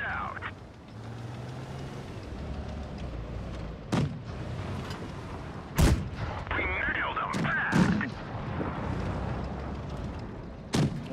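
Tank cannon shots in World of Tanks Blitz, a few sharp booms spaced several seconds apart over a steady engine rumble, with a person talking intermittently.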